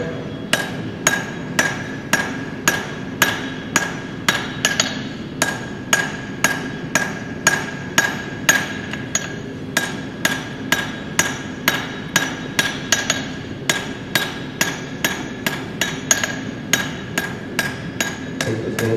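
A hammer strikes repeatedly at a brisk, even pace, about two blows per second, each a sharp close metallic knock, continuing for the whole stretch with no voices.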